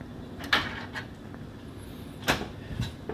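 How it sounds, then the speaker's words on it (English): A Canon printer's access door swings shut with a few close plastic knocks and clacks, separated by quiet pauses. "Close the door."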